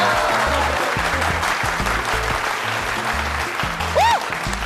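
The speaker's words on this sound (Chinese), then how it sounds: "我们掌声有请。" An audience at an evening party aboard a luxury yacht applauds in a loud, steady burst of clapping that lasts throughout, with a faint musical tone rising briefly near the end.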